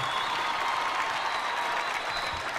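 Steady, moderately distant audience applause for a gaucho singer at the Jesús María festival, a dense continuous wash of clapping without pause.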